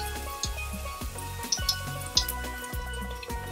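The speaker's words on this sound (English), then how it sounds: "And you see we have that sizzling." Garlic sizzles in hot oil in a pot while fried rice is cooked, a steady close crackle over a low hum, punctuated by several soft knocks and brief louder pops.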